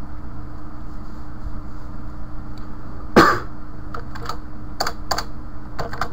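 Keys on a computer keyboard tapped while entering code, with a single loud clack and a few scattered keystrokes over a steady background hum, near and fairly quiet, with no talking.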